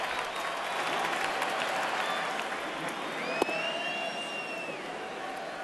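Baseball stadium crowd at the 2014 Home Run Derby, a broad, distant wash of cheering and applause that holds steady throughout, with one sharp crack near the middle.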